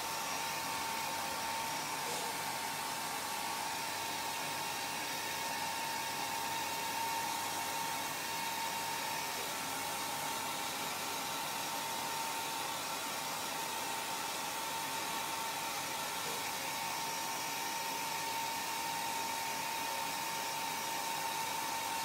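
A hair dryer blows steadily over a wet watercolour sketchbook painting of figs, producing a constant close whooshing drone with a faint whine that runs unbroken for about twenty seconds.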